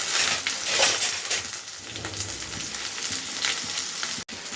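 Onion, dried red chillies, garlic and tamarind sizzle steadily in a hot pan, with occasional scraping stirs and a faint clink, and no voices.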